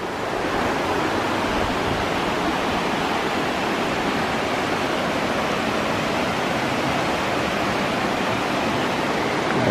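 Mountain stream rushing near the source of the Dordogne at Mont-Dore, a dense, even roar of flowing water, close and loud, steady throughout with no voices.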